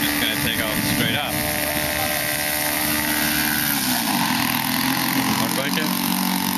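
Engine of a remote control plane running on the ground before takeoff, a steady, buzzing drone heard outdoors at moderate distance, with a person talking over it.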